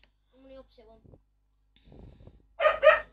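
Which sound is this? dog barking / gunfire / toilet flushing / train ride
dog barking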